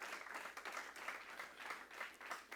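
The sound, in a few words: congregation applauding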